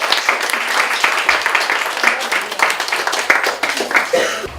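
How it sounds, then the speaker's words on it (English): An audience at a student art award showcase claps for the art instructors, a brisk and fairly loud round of applause with voices mixed in. "So a big round of applause for your instructors."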